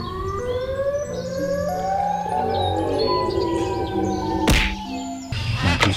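A Siren Head toy gives off a loud electronic siren with overlapping tones that rise and fall continuously, ending with a couple of sharp bursts of noise near the end.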